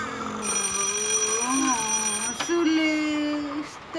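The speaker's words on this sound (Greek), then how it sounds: "τηλέφωνο. Τηλέφωνο." A telephone rings steadily indoors during a Greek television sitcom scene, its sustained tones carrying on throughout with a faint voice briefly underneath.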